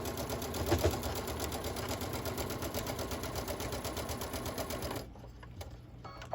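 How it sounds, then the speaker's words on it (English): A sewing machine runs in a steady, fast stitching rhythm along a long seam, sewing off the end of the fabric, then stops abruptly near the end, leaving a quiet room. "I'm just going to sew right off the end."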